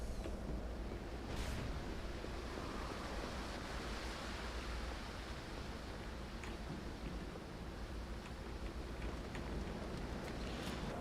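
A waterfall in Halo 2, a continuous broad roar of rushing water, steady and fairly loud with no gaps, a few faint clicks over it.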